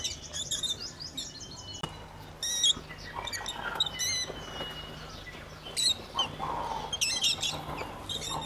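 Birds in a walk-through aviary chirp and squawk close around a visitor, with bursts of bright tweets and harsh calls overlapping throughout, some wing flapping, and steady background hum.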